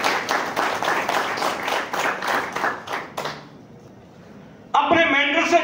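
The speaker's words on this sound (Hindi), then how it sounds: "जोरदार तालियां के लिए।" Loud audience clapping at a motivational leadership talk rolls on for about three seconds and fades out, a quiet gap follows, then a voice starts speaking.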